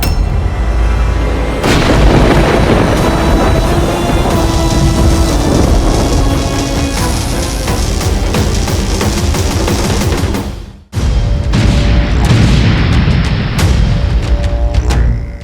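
Indrastra divine weapon blast from the Ramayana TV serial, Shrimad Ramayan: a loud, sustained roaring barrage like thunder and artillery rumbling, cutting off abruptly near the end before resuming.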